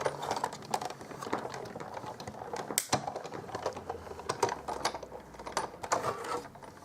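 A hand-cranked die-cutting machine feeds paper through: faint, uneven clicking and ratcheting mechanical noise with a few sharper clacks, close by and quiet.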